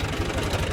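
Tractor engine idling nearby, a steady low rumbling throb with a regular knocking pulse, heard alone for under a second.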